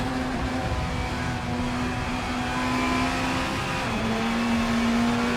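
Classic BTCC touring race car in the Assetto Corsa racing game, a steady engine drone at sustained revs with a brief pitch dip near the four-second mark, heard alone without talk.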